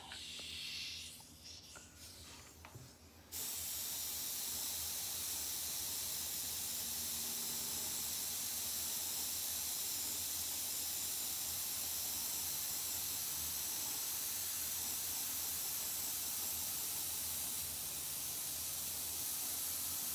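An airbrush sprays red paint to form vampire lips, giving a steady, loud, even hiss that starts abruptly after a few seconds of quieter handling sounds and carries on unbroken to the end.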